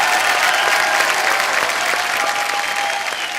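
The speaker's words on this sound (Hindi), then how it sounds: "तो एक बार जोरदार तालियां हो जाए पूरे खान परिवार के लिए" A studio audience on an Indian comedy talk show gives loud, sustained applause in honour of a visiting screenwriter and his family, an even, continuous roar of clapping with no talk on top.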